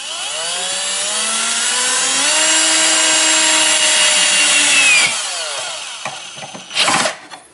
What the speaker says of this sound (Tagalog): una nating screw dito para hindi siya malaglag